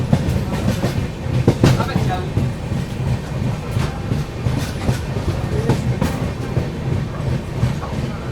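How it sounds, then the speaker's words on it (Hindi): The Kashi Vishwanath Express pulls into Rampur junction on an Indian railway, with a steady rolling rumble and rhythmic clickety-clack of wheels over rail joints, loud and close throughout. "चलिए दोस्तों अपना अराइवल होता हुआ रामपुर जंक्शन पे।"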